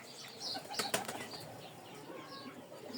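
Pigeons flapping their wings near a nest, a couple of quick flurries of wingbeats close by over a quiet background with faint rustling.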